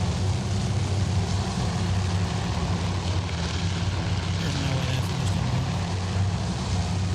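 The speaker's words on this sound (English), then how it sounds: "It's like a float plane." Float plane propeller engine droning steadily in the Task Force Admiral naval war game, a continuous low rumbling hum throughout with no talk over it.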